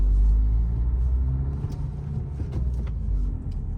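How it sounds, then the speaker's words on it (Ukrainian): A Nissan Qashqai with the 1.5 dCi diesel rolls slowly over a speed bump, heard from inside as a low, steady road and engine rumble with faint thumps from the suspension. "Приїжджаємо через лежачого."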